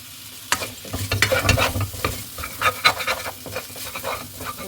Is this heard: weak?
no